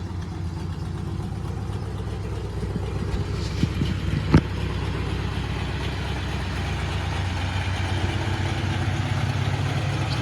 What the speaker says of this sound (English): It's a cold start. Gonna have to let this thing warm up for a few minutes.